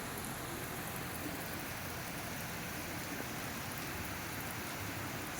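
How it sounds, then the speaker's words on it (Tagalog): Heavy, continuous rain pours down steadily in Camarines Norte, a dense unbroken hiss with no voices or other sounds over it. "Bali pang 4 days na po, na tuloy-tuloy ang ulan dito sa amin sa Camarines Norte"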